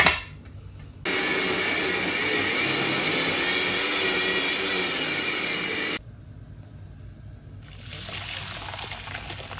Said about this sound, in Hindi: अब सिर्फ इसको ब्लेंड करें